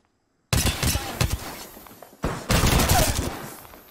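Rapid bursts of gunfire in Apex Legends, two loud close volleys of rattling shots separated by a brief pause, with no voices over them.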